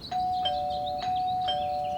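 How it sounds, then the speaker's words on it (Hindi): An electronic doorbell chimes in a repeating pattern of bright tones, steady and clear with a faint background hiss. "तभी डोरबेल बजी"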